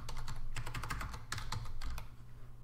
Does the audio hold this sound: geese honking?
no